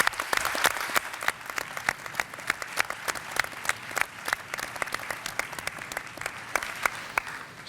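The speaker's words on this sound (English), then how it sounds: "So a round of applause," A medical meeting audience gives a sustained round of applause after live heart valve procedures, a dense steady patter of many hands with distinct sharp claps punctuating it, loud and unbroken throughout.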